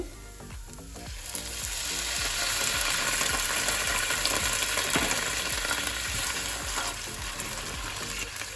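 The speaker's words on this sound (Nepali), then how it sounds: "अब म यसमा थोरै पानी हालेर चलाउँदैछु" Water poured into a pan of fried tomato and onion bursts into a loud, steady sizzle, with a spoon scraping and stirring through it, close up.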